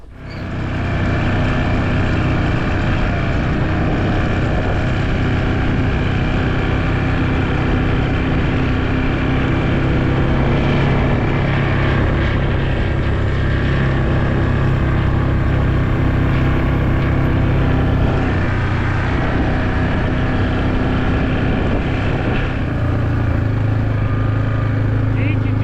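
A vehicle drives steadily through a tall hay field, its engine droning loud and continuous for the whole stretch with a rough, rumbling low end and no pauses.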